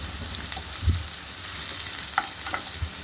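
Onions sizzle in hot oil in a pan for okra fry, a steady close frying hiss with a few soft stirring scrapes and clinks, no voices.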